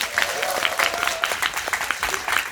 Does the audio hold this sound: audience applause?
yes